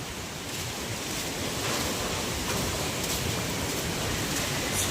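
Strong typhoon wind roars steadily and close, a dense unbroken rush that swells slightly midway and stays loud throughout.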